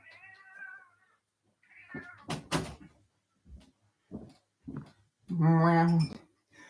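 A house cat meows repeatedly, moving between going out and coming back in: several short, close cries with soft knocks and clatters between them, ending in one long, loud drawn-out meow.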